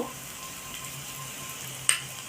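Ginger garlic paste hits crab frying in hot oil, giving a steady, close sizzle broken by one brief sharp crackle near the end.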